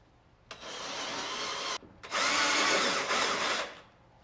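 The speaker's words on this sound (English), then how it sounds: "All right, second hole's drilled." Power drill boring the second mounting hole for a mirror on a 2024 Polaris Ranger XD 1500 Ultimate, two close, loud bursts of steady drilling separated by a brief pause.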